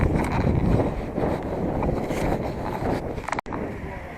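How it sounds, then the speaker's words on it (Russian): Strong wind buffets the microphone outdoors in Ishim, Tyumen region, during travel against a headwind: a steady, loud, low roaring rush with gusty swells and one brief dropout near the end. "Ветер сегодня ужасный"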